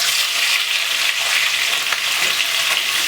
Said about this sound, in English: I'm just gonna simply put everything together and fry them off.